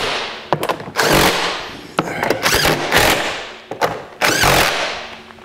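Bolts on the cover of a Honda EU3000IS generator are run down with a power tool in three or four short, loud whirring bursts, separated by quieter pauses and clatter, with no talking.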